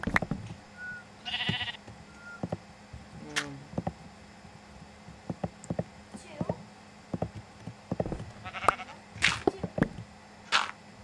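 In a multiplayer video game, sheep bleat several times among clicks, hoof-like taps and short game effects, while players talk over the sounds throughout.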